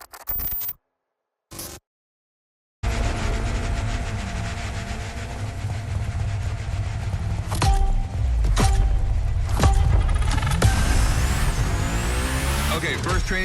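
A Hoonigan car slides around a gymkhana grid playground in the racing game The Crew Motorfest, with a loud continuous engine drone, tyre squeal and sharp skids after brief bursts of game sound.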